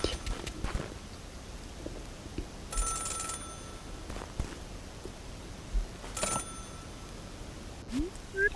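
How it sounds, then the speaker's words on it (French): A telephone rings in a cutscene of the video game Celeste, two short, bright ringing bursts over a quiet, faintly busy game soundscape. "Le téléphone sonne et c'est une cinématique."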